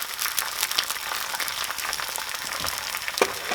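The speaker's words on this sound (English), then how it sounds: "You get that nice sizzling sound." An egg sizzles and crackles steadily in a hot frying pan, close by, with scattered pops and no talking over it.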